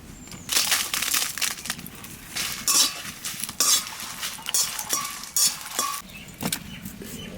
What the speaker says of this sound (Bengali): শুকনো লঙ্কা বাজিয়ে নিলাম